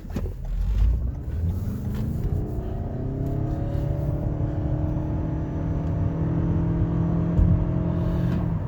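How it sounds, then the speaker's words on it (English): A 2022 Toyota Camry Hybrid accelerating from 0 to 60 in eco mode, heard from inside as a steady engine whir climbs in pitch over a low road rumble with no talk. "You'll see just how quickly it will accelerate."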